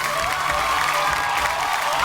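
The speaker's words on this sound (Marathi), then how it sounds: "ही ताई एकदा जोरदार टाळ्या होऊन जाऊ दे" A studio audience on a Marathi television show applauds in a continuous, even wash of clapping, with voices faintly mixed in.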